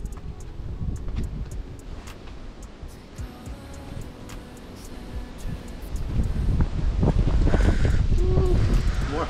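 Wind gusts buffet the microphone outdoors during an obstacle exercise, a steady rumbling roar that swells louder in the last few seconds, with faint voices now and then.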